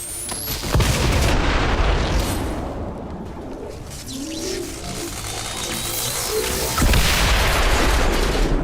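An explosion in the video game XCOM 2, loud booming blasts with a rumbling, crackling tail and a second heavy burst later, with no talking.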